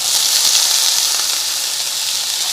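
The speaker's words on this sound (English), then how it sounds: "Dropping in the garlic and the onions first." Garlic and onions sizzle steadily in hot oil in a pan, a dense, even hiss heard close and loud throughout with no talking.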